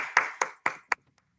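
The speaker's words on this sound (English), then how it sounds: "So if you join me, please, we'll clap for her and her 100th birthday coming up on February 2nd." Four sharp, evenly spaced hand claps at a board meeting ring out in a quick run, then stop, leaving near silence with a few faint taps.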